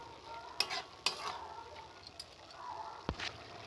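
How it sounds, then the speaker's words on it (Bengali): Fried prawns stirred with bottle gourd in a pan for a Bengali lau chingri ghonto, giving a few sharp scraping clinks of the spatula over a soft, steady sizzle, with one louder knock near the end. "আগে থেকে ভেজে রাখা চিংড়ি মাছ নিয়ে দিয়ে আমি ভালো করে নেড়ে চেড়ে নেব"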